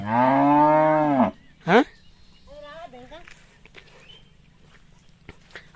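A tethered cow gives one long, loud moo up close, followed by a short second call and faint shuffling sounds.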